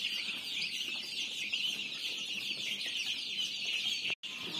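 Turkey chicks and chicken chicks chirp in a dense, continuous high-pitched chorus, steady and close throughout, with one sudden brief dropout near the end.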